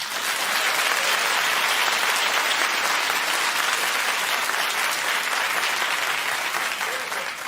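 Studio audience clapping on a daytime talk show, dense and sustained throughout, even in level with no talking over it.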